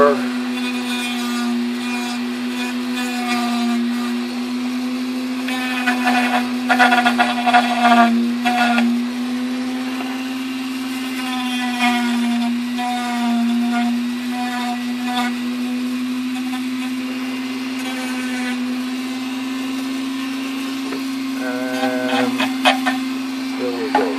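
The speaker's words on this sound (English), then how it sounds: "Now with a different tip, we're going to sand it down a little bit closer" A rotary tool with a sanding tip grinds on a plastic 1:48 scale Monogram F-4C Phantom model kit, a steady loud whine throughout with scraping bursts as it bites, under intermittent talk.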